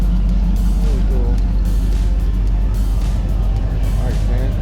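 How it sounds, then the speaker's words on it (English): At an outdoor truck and classic car show, vehicles cruise past close by with steady engine rumble and occasional revving while people chat nearby. "You gotta love just all the classic cars just cruising by you all the time"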